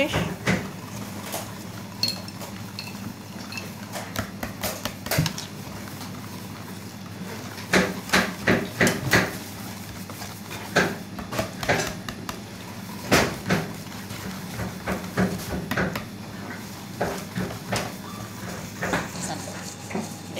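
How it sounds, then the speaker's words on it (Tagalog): Banana cake batter is mixed in a bowl, with repeated clinks and scrapes of a utensil against the bowl coming in irregular bursts. People chat throughout in a home kitchen. "Mix, mix, mix until finish."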